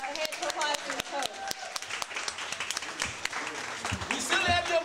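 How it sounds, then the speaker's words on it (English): An audience claps for young poets at a youth poetry slam, a steady patter of applause that swells toward the end, with a voice speaking over it. "So give another hand to applause to the poets"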